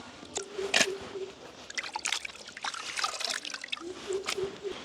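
Water sloshes and trickles in irregular bursts as fish is rinsed and swirled by hand, close up, with splashes and drips throughout.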